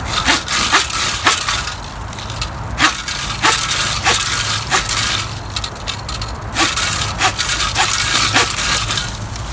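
A United Edge folding camp saw cuts through a branch about an inch and a quarter thick in steady back-and-forth strokes, a rhythmic rasp with woody crackles, close and loud, with no talking.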